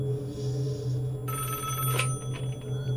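A telephone ringing in the Five Nights at Wario's video game, a loud electronic ring that starts partway through over a steady low hum, with one sharp burst near the middle.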